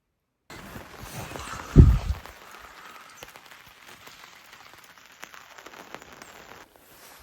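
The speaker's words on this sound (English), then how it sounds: "It's raining." Rain falls on an off-grid log cabin homestead as a steady, soft patter with a brief louder thump early on.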